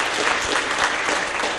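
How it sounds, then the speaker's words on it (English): A church congregation at a Lutheran worship service claps in a sustained round of applause, dense and fairly loud, filling the space evenly with no talking on top. "Give yourself a round of applause, and thanks be to God for all of that work."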